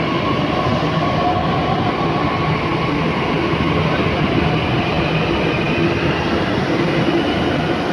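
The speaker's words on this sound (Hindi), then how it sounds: "अभी हमारी आ गई मेट्रो" A Delhi Metro train from Gurugram rumbles steadily and loudly throughout, a continuous roar of wheels on rails with a faint high whine, no voices.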